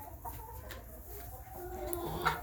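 Three hens sitting in a nest on a rainy morning, soft intermittent clucks over a steady background of rain, fairly faint and unhurried.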